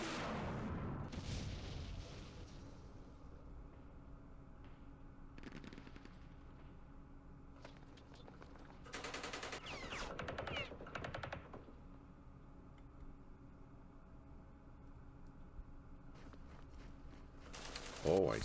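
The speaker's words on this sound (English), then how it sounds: "Probably a recoilless rifle or something." Gunfire and a recoilless rifle in the Campaign Series Vietnam wargame at the Battle of Khe Sanh Village 1968, with bursts of machine-gun fire and sharp booming shots scattered across quieter stretches and a voice commenting.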